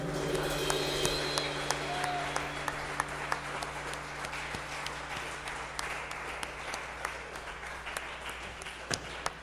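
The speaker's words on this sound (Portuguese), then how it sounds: "Dá uma salva de palmas ao nosso Senhor Jesus Cristo" Congregation in a church service applauding together, a dense steady wash of clapping with sharper individual claps standing out, carrying on for several seconds under a low sustained tone from the room.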